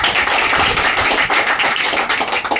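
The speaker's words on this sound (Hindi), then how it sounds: "एक बार उनके लिए जोरदार तालियां" Dense, steady applause from an audience fills the whole stretch, a close wash of many hands clapping at once with no break and no voices on top.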